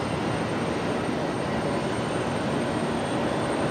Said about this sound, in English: We've got a Qantas 73 taxiing out.